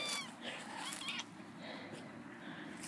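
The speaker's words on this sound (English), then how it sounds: "Oh, there's a cat." A cat meows a few times up close amid rustling background noise and brief human voices.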